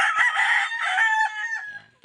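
A Kelso street-breed gamefowl rooster crows once, loud and close, a single drawn-out call that trails off, with a brief cluck at the end.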